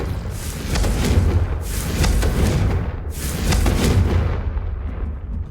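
Blasting spell explosions in the Hogwarts Legacy game, three loud booming bursts in quick succession, each with a crackling rush that trails off, the last fading into quiet.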